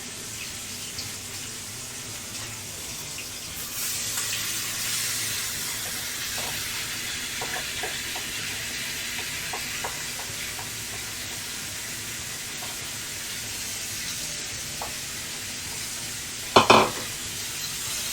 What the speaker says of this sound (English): we'll add the onions back in now